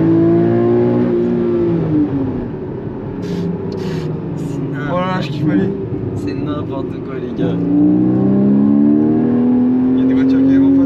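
A Porsche Cayman's engine drones loud and close from inside the moving car, its pitch climbing and falling as it revs, with excited talking over it nearly throughout.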